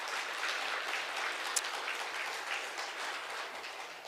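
A church congregation at a Sunday afternoon service applauds in encouragement of missionaries: steady, moderately distant clapping from many people, sustained evenly across four seconds, with one brief sharp tick partway through.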